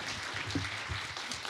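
An audience claps steadily through a short burst of applause for event moderators and panelists, a dense even patter with no voices over it.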